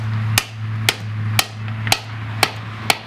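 Six sharp hammer taps at an even pace strike a 1.75-inch canister shell mortar tube, seating it into a rack, each hit crisp and close over a steady low hum.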